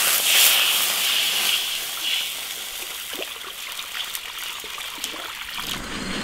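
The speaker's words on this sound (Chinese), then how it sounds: "来点干净水" Clean water is poured into a cooking pot over fried hot pot base, chili paste, ginger, scallion and spices, giving a steady trickling gush near the mic that eases off toward the end, with no talk.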